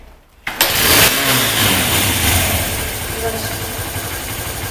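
A Honda Ape 100 motorcycle is kick-started, and the single-cylinder engine fires with a sudden loud catch and settles into a steady, close idle while someone speaks briefly over it.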